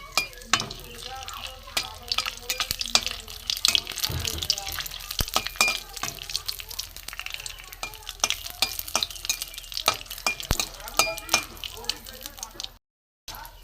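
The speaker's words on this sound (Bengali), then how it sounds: "এখানে আমি কতগুলো শুকনো লঙ্কা প্রথমে আমি ভেজে নেব, একটু লাল করে ভেজে নেব" Dried red chillies fry in hot mustard oil, giving a steady close crackle and sizzle with stirring scrapes and occasional water sounds, and a voice talks over it at times.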